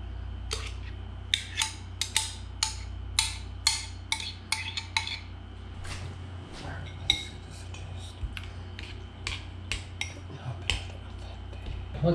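Utensils scraping and clinking against a bowl as chopped guacamole with garlic is scooped in, a quick irregular series of sharp metallic taps close by.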